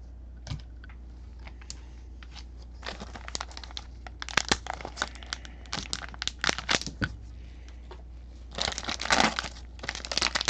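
Foil packs of 2020 Gold Rush baseball cards are torn open and handled, giving close crinkling, crackling bursts and scattered sharp clicks, with a heavier stretch of rustling near the end and a steady low hum underneath.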